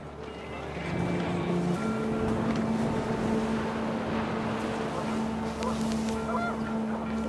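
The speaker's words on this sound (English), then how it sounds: "The wind picked up, and panicked geese appeared and quickly went." Panicked geese honk and flap in the video game What Remains of Edith Finch, a steady clamor of fowl calls over wind and a low droning background that holds loud and continuous throughout.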